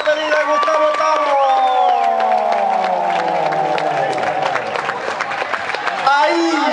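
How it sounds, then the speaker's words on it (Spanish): A crowd claps and cheers at a rodeo bull ride in Corralillo, the farewell ride of rider Gustavo Víquez on the bull El Robleño. The loud, continuous applause runs under someone talking over the noise. "démosle el aplauso a la despedida de Gustavo Tavo"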